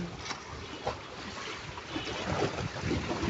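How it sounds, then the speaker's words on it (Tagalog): Tugboat working near a seaside pier, with a soft, steady rumble of its engine blending into wind and lapping water, a few brief louder splashes or thumps rising and falling across the short stretch. "yan po yung barkong nagtutulak ng mga barkong malalaki. Tinatawag po yan na tugboat."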